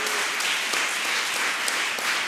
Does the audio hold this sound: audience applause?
yes